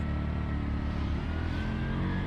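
A tuk-tuk engine in Sri Lanka accelerates in first gear, a loud, close, continuous motor roar with its pitch creeping upward, and no one speaking.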